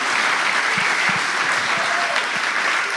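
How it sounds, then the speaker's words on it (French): Audience applause at a live comedy show, a steady wash of clapping that fills the whole span at close range with a few louder individual claps standing out. "on peut l'applaudir"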